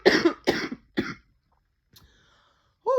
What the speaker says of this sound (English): excuse me, because I'm still getting over a cold and I'm about to cough.